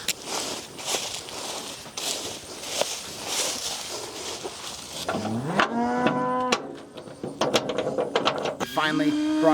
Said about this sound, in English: We've got the cows coming over to this land, and we're excited to have them.